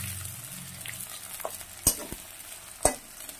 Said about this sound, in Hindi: कैप्सिकम डाल देंगे। इसको 1 से 2 मिनट के लिए चला लेंगे।